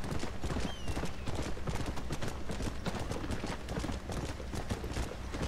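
Rapid, steady clip-clop of a horse's hooves galloping in the Red Dead Redemption video game, continuous and fairly quiet throughout, without speech.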